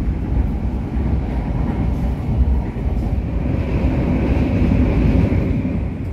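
Train running on a Javanese railway line near Purwosari and Klaten, a loud continuous low rumble and roar of wheels on track, steady throughout with slight swells and no voices.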